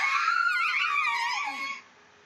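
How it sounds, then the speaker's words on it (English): A woman's high-pitched shriek from the visual novel Norn9 Last Era, loud and sustained for almost two seconds, wavering in pitch before cutting off abruptly. "Her high-pitched shriek almost burst my eardrum."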